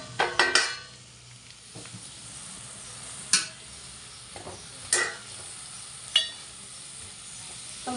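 Cabbage curry with soaked chana dal stirred in a pan: a low, constant sizzle under sharp spoon scrapes and clinks against the metal, with a cluster of knocks at first and a few more spaced strokes.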